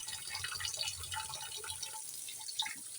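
Cleaned mackerel rinsed under running tap water in a sink, a soft steady splash and trickle with small drips, close and fairly quiet, no speech.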